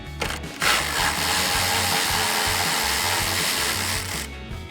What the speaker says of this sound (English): we'll grab our 8mm socket on our ratchet and run these 2 off